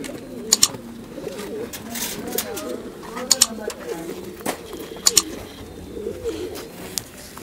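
White Danish fancy pigeons cooing softly at a pigeon farm, with low murmuring coos throughout and a few sharp clicks or wing flutters breaking in at intervals, close and moderately quiet.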